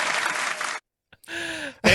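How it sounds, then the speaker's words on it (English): A short burst of clapping, then a brief silence before more noisy bursts follow. "That was a loud applause, but well warranted."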